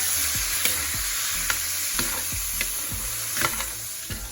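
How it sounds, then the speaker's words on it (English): A pan of cooked shrimp sizzles steadily after Marsala wine is added to deglaze it, with a constant frying hiss and occasional soft scrapes of stirring, close by and without talking. "here I added in a little Marsala wine to deglaze the pan and add an"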